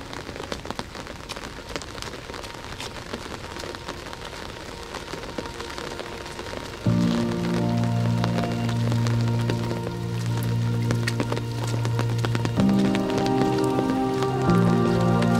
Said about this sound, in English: Although it's raining like this